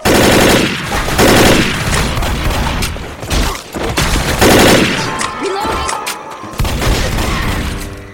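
Loud, sustained gunfire in Left 4 Dead on the Blood Harvest bridge at Expert difficulty, with rapid automatic bursts and heavy booming shots hammering almost nonstop at close range, broken by brief lulls.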